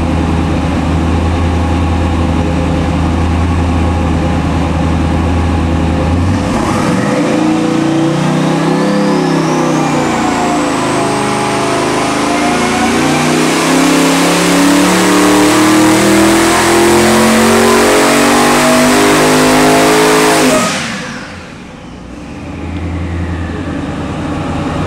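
A 1700 HP mid-engine Chevy LSX roars through a dyno pull, climbing from a loud idle into a long rising high-rpm scream that holds for about fifteen seconds before cutting back to idle, very close and loud.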